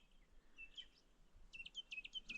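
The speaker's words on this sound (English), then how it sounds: "Still hear the birds singing." Faint birdsong in a quiet outdoor setting at Lady Lake, Central Plateau, Tasmania: a couple of thin chirps, then a quick run of repeated high tweets toward the end.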